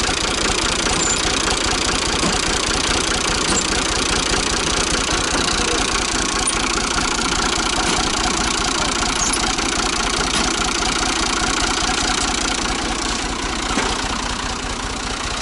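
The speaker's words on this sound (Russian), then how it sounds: "к трактору сейчас будем подключать и заряжать" A tractor engine idles steadily and loudly close by in a Turkish village while hooked up to charge another vehicle, a constant low rumble with a faint knocking texture running unbroken throughout.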